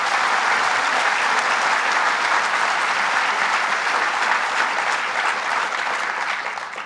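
Sustained applause from an audience at a governor's jobs announcement event, dense and steady throughout, fading slightly near the end with no talk over it.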